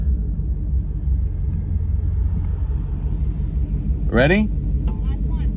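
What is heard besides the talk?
Shelby GT350 and Dark Horse Mustang racing on track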